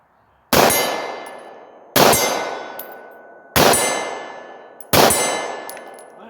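A Beretta 92 M9 pistol fires at steel targets 30 yards away: four evenly spaced sharp reports, each followed by a long, fading metallic ring from the struck plate.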